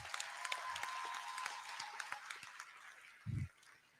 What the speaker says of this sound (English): Can we give ourselves a round of applause too?